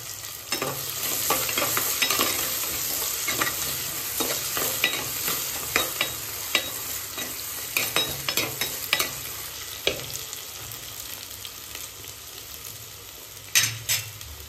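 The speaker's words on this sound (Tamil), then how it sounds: "வெங்காயம் கொஞ்சம் வதங்கிடுச்சு." Onions sauté in a pan, with a continuous sizzle broken by repeated scraping and clinking strokes of a spatula that grow sharper and more frequent toward the end. There is no talk.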